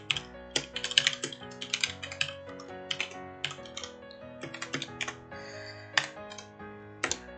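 Someone types in uneven bursts on a computer keyboard while coding, close-up clacks and rapid runs of keys separated by brief pauses, over a faint steady hum with no speech.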